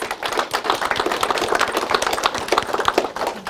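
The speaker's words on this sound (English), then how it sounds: "I hope you guys could do the same, is give yourselves a round of applause" An audience gives a round of applause at a presentation, a dense, steady patter of many hands clapping together close by, with no talking over it.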